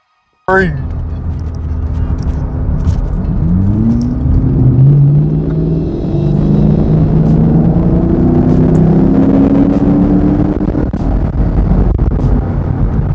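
A car races along an interstate, starting abruptly with a loud engine roar that climbs in pitch through repeated accelerating sweeps. The close, heavy rumble holds steady to the end.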